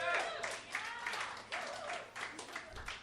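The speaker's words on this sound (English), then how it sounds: "Give yourselves a big round of applause for coming out tonight" Comedy show audience applauding and cheering, continuous crowd clapping mixed with whoops and shouted voices, fairly faint and roomy, sustained throughout.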